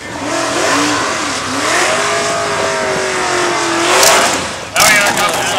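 A diesel Mustang and an old heavy Chevy drag racing: loud engines roar and rise steadily down the strip, with a sharp burst of noise near the end and an announcer talking over the race.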